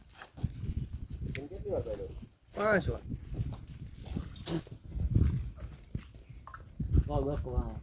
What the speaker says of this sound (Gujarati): આવ્યા છે એનો ઘોડો લઈ